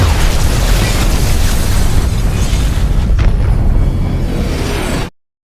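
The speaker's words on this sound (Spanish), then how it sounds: "todo explota en gran escala" A large explosion roars as a sound effect, a loud, sustained rumbling boom with a whooshing burst in the middle, ending abruptly in silence.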